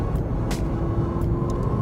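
A McLaren 650S Spider engine rumbles steadily and loudly close by, top down, a continuous low drone with faint brief hisses on top.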